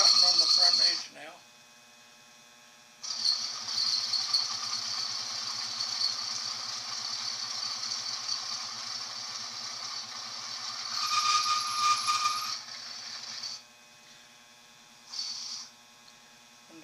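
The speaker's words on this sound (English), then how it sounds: "I'm cutting on the front edge now." Dry metal cutting on the front edge of a workpiece while machining a DTI swivel adaptor: a steady, close hiss over a low machine hum, running continuously for about ten seconds with a brief flare near the end, no talking.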